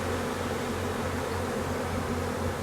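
Honeybees swarming around a swarm box, a thick continuous buzz of many insects close by, steady and unbroken with no voices.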